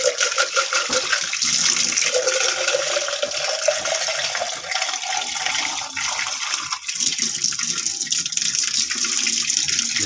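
A glass of water is poured into a cooking pot for boiling snails, making a continuous splashing, gurgling stream that runs for about ten seconds with no voices.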